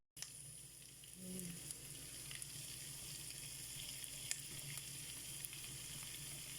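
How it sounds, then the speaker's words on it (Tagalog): Ingredients browning in a pan for molokhia, a steady close sizzle that swells after a moment and holds with faint crackles and small pops. "Pag-brownin muna natin sandali."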